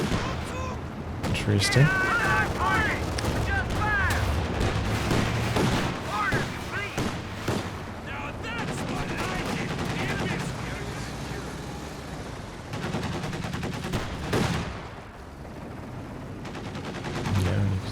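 Light machine gun bursts rattle in a Company of Heroes 2 2v2 match amid other scattered gunfire and explosions, steady and busy throughout, with a voice commenting over the battle.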